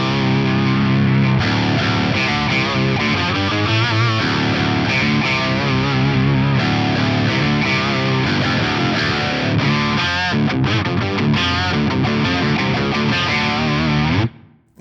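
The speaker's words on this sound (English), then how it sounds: "That's a really fat, character-filled octave sound." A fat, heavily distorted octave guitar tone from a Fractal amp modeler plays continuously, loud and dense, with sustained notes and chords before cutting off abruptly at the end.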